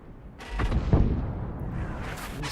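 Artillery fire in a tank video game with a self-propelled gun, heavy booming blasts that roll and echo into a sustained rumble, one strong report followed by lingering reverberation and a second swell near the end.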